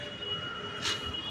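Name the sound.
metro train passing near Garia station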